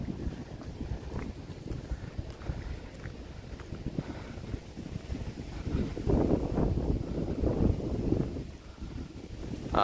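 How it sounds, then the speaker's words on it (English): Strong, chilly wind gusting outdoors during a late night amid hurricane relief, a constant low roar with buffeting rumbles against the microphone that swell louder toward the end. "Woo, that wind. Incredible. A little bit chilly."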